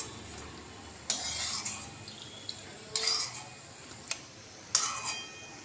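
Sweet potato sweets frying in oil, a soft steady sizzle broken by several sharp metallic clinks and scrapes of a utensil against the pan, close and fairly quiet.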